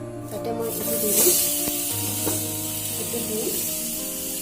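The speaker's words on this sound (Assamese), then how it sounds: "কেৰাহী গৰম হৈ গ'ল, তাতে মই এইটো দি দিম।" Small fish wrapped in banana leaf meet a hot wok, giving a close hiss and sizzle with a few sharp spits and crackles that settle into a softer steady sizzle.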